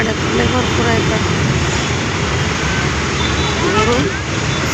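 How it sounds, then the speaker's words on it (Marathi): Heavy road traffic in Hyderabad, a steady loud roar of many vehicles with engine rumble and hiss filling the air continuously, close by and without pause. "गाड्या लय भरपूर आहेत."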